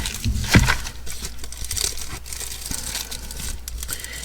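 Scissors snip shapes from plastic bubble wrap, giving one sharp crinkling crunch early on, then soft intermittent crackles and rustles close by with no talking.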